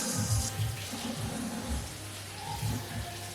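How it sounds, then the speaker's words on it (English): Celery is rinsed under a running kitchen tap, water splashing steadily into the sink with uneven shifts as the stalks move through the stream. "and rinse them off with water"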